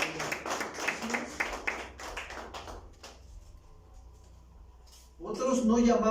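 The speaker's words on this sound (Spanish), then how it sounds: "¿Cuántos le dan un aplauso al Señor?" A church congregation at a Sunday service claps for the Lord, a run of quick, uneven claps for about three seconds that fades out, followed by a lull and then a voice speaking.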